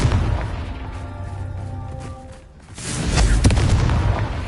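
A Confringo blasting spell detonates in the Hogwarts Legacy video game, a booming burst that swells after a brief lull, with heavy low rumble and crackling debris.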